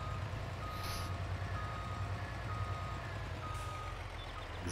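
A truck in the Farming Simulator 22 farming game reverses with a steady, rhythmic electronic beeping, repeating evenly over a continuous low engine drone; two brief bright hiss bursts are also heard.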